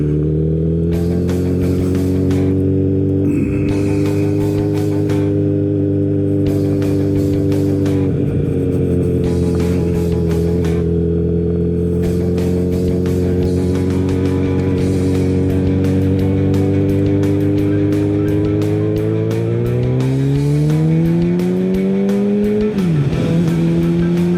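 Kawasaki Z900RS retro motorcycle engine droning steadily close up while riding a gravel road, a loud continuous tone that holds through the run and briefly dips and rises near the end as the rider shifts gears.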